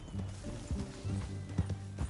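Horse hooves clip-clop in a video game, a rhythmic run of soft thuds at a steady walking pace with a low background drone, fairly quiet.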